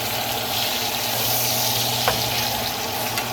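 Prime rib steak sears in a hot pan with a loud, steady, close sizzle and crackle, continuous and unbroken, with a faint clink partway through.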